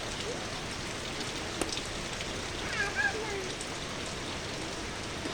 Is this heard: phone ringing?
no